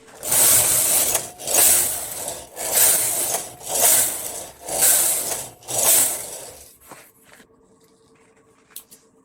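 An SK280 knitting machine carriage is pushed back and forth across a few rows, giving six rhythmic mechanical rattling passes with clicking, close and fairly loud, before the clip falls nearly silent.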